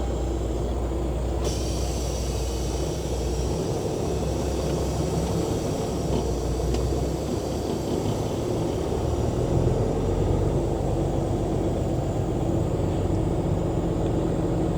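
A Canadian semi-truck with a 13-speed gearbox pulls away, its deep diesel engine drone and road rumble filling the cab steadily and loudly for the whole stretch.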